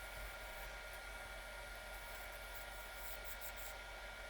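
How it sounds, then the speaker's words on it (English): A wood lathe spins a resin dotted vase while a diamond parting tool cuts a tenon, giving a steady, continuous whirring hiss with a faint high scraping edge, even and unbroken throughout, heard without talking. "Starting to make the tenon with the diamond parting tool."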